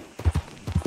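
Horse hooves from the video game Red Dead Redemption 2 clip-clop in a short, quick run of hollow thuds, close and clear, with a brief pause midway.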